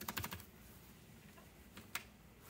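Keychron K1 mechanical keyboard typed on in brief clattering bursts, quiet and close, with scattered single keystrokes between them.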